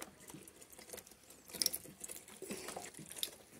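A hand meat grinder mincing meat for escudiguim in a rural kitchen, a soft continuous crunching and pattering texture with small irregular squeaks, fairly quiet and without voices.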